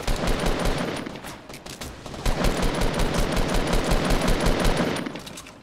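Gunfire in the Fortnite video game rattles out as loud, rapid, closely spaced shots in an almost continuous burst lasting several seconds, with no talking.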